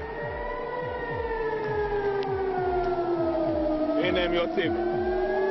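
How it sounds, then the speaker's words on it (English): Wailing air raid sirens in Jerusalem rise and fall over a rhythmic mechanical chugging, loud and continuous, with a brief higher tone near the end. "The air raid sirens going off were really the topic of the day here in Jerusalem."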